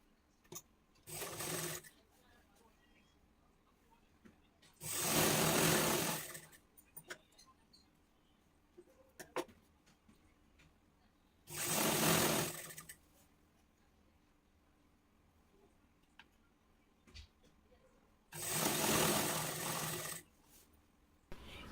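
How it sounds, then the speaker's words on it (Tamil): A sewing machine stitching a pavadai skirt made from a saree blouse, running in four separate short bursts of steady whirring with quiet pauses between them. "இடுப்பு பாவாடையோட பிசிறு தெரியாமல் நானா துணியை அதன் மேலே மடித்து வச்சு தையல் போட்டுக்கிறேன்"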